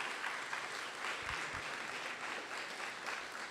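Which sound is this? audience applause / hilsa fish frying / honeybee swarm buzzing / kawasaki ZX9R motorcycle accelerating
audience applause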